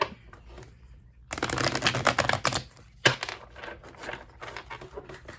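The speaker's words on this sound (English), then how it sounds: "I'm really bad at shuffling, so I apologize." A tarot deck is riffled and shuffled in quick bursts, with crisp flapping and tapping bursts separated by short pauses, close to the listener.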